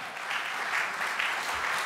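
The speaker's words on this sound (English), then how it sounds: "If you could give them a round of applause." Round of applause from a seminar audience honoring team members, a short, steady, moderately loud patter of clapping from many hands.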